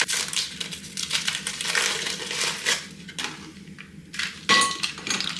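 Terry's Chocolate Orange being broken into pieces by hand in a kitchen, giving repeated crisp cracking and clinking snaps over several seconds, close and fairly loud with no talking.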